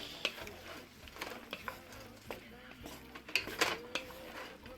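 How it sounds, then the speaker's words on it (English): Cooked penne pasta tossed in a bowl, with soft clinks of a utensil against the dish and light squishy stirring sounds, close and fairly quiet. "So now we'll put the pasta back into the bowl and we'll give it a good toss."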